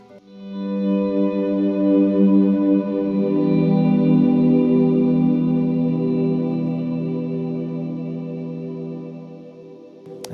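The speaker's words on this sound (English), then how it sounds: "I still have the repeats on the Echo Park up." An electric guitar swells in slowly through an Echo Park delay with the repeats turned up, building a thick, sustained wash of ringing tones that lingers and fades gradually over about ten seconds, with no speech.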